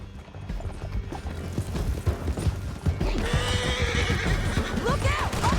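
Horses in Red Dead Redemption 2 whinny and gallop with rapid clip-clopping hooves over a rumbling game soundscape, the neighs rising clearly toward the end.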